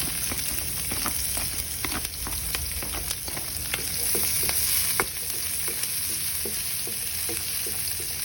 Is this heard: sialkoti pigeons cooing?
no